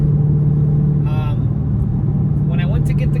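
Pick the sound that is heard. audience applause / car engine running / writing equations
car engine running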